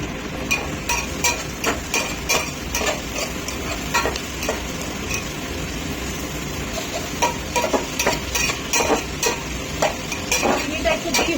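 Turmeric, sugar, tomato and onion fry in oil in a pan, a steady low sizzle broken by frequent clinks and scrapes of a stirring spoon against the pan, close and moderately loud.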